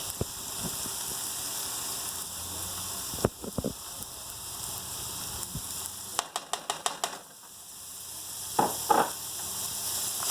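Garlic sizzles in a pan of zucchini for pasta, a steady close frying hiss under a few sharp clicks and scraping knocks of a utensil against the pan.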